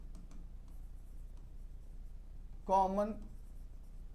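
Marker or chalk writing on a board during a Class 10 maths lesson on arithmetic progressions, a soft faint scratching that runs through most of the clip, briefly interrupted by a short spoken word near the end.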